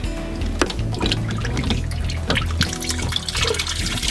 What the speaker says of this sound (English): The water is blasting.